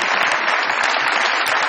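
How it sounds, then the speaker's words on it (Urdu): A studio audience at a comedy talk show claps steadily and densely throughout, a continuous wash of applause with no pauses. "بہت ساری تالیاں بجائیے."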